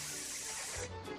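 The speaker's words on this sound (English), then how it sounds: "they're still leaking, yeah. Them tires are ruined there" Air hissing out of punctured police car tires, a faint, steady spray-like hiss lasting about a second with a slight low rumble near the end.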